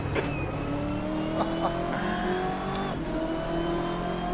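Corvette C8R race car in Assetto Corsa, its engine droning loud and steady with shifting pitch as it accelerates and changes gear, a continuous close roar throughout with no talking.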